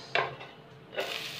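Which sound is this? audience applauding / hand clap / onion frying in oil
onion frying in oil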